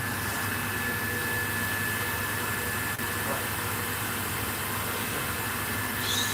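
A one-arm latex balloon printer runs with a continuous, even mechanical whir and hiss at close range, steady throughout with no pauses.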